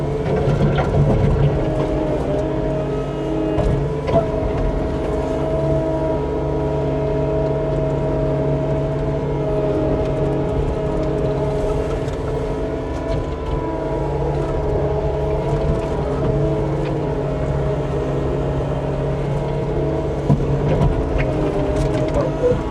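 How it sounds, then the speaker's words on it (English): Heavy machinery engine heard from inside the cab while moving a dirt pile at a pipe installation site: a loud, steady, droning rumble that holds constant throughout, with no talking. "I'm gonna put y'all in here in the cab with me and we'll get this dirt pile moved out of the way"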